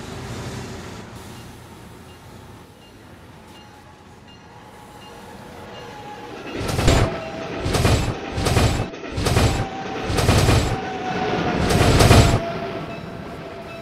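A train in the Trainz video game rolls along the tracks near Newark International Airport, its rumble building into a series of rhythmic heavy clacks as wheels pass over rail joints, loud and close.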